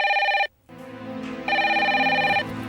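A telephone rings in an indoor domestic scene from a Bhojpuri TV serial, with loud, sustained electronic ringing bursts broken by a brief pause, then a lower tone and a second strong ring.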